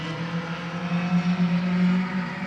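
Race cars at Midvale Speedway roar down the backstretch, a steady droning engine note that swells and pulses as the pack passes, loud and continuous with no talk.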